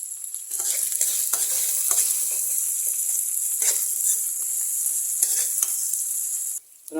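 Onion, green chillies and curry leaves frying in a pan for a bamboo shoot stir fry, a steady close sizzle with occasional stirring scrapes, continuing loud and unbroken before a brief dip near the end.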